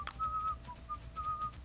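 A person whistles a short, bright tune of a few sustained notes with brief gaps between them, close and clear over faint background noise.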